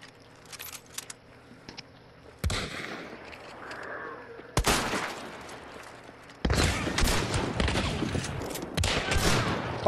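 Heavy shotgun blasts in Hunt: Showdown, three loud booming shots spaced a couple of seconds apart, each followed by a long rumbling tail over quieter ambient game sound.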